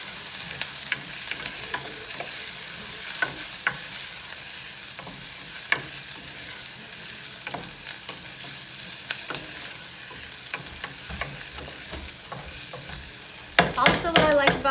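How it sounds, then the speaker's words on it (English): Garlic and vegetables fry in oil over a charcoal barbecue pit with a steady close sizzle, scattered clicks and scrapes of stirring, and a louder burst of crackling near the end. "Fry it all up."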